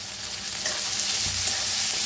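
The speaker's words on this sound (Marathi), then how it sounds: "आता ह्याच्यात टाकूया थोडीशी कोथिंबीर" A little fresh coriander tossed into a hot pan to roast, producing a loud, continuous close-up frying hiss with faint stirring movement underneath.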